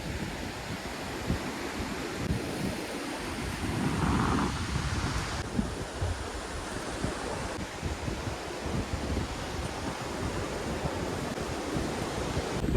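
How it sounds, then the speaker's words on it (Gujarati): Sea waves wash steadily onto a shore near a coastal temple, a continuous broad roar of surf mixed with wind buffeting the microphone, fairly loud and unbroken, with no voices. "દરિયા આવી ગયા છે."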